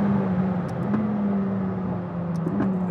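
Engine of a 2018 McLaren 600LT accelerating hard at high speed, a steady loud drone with a strong low tone and whirring overtones, heard continuously from inside the car.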